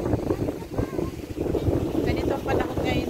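Gusty wind blows outdoors on a hot, humid day and buffets the microphone in a constant, loud rumble. A voice talks faintly underneath.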